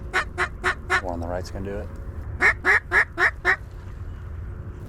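Wild ducks on the water quack in two loud bursts, a run of rapid calls at first and then five evenly spaced squawks, close by, with someone speaking quietly between them.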